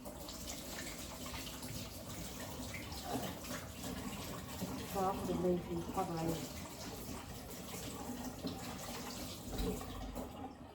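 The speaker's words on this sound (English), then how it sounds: "Wash my hands after I cut the fish." A kitchen tap runs while hands are washed after cutting fish, a quiet continuous splashing stream with some uneven rinsing in the middle and a soft background murmur.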